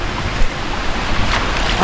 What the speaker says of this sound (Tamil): இங்கே ஒரு சின்ன சின்ன அருவி வந்துகிட்டே இருக்குது